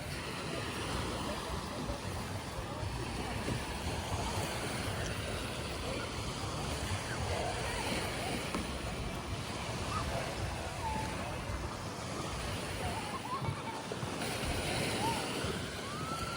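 Ocean waves and strong wind on Boracay beach in the Philippines, a continuous roar of surf with heavy wind buffeting the microphone throughout, loud and close.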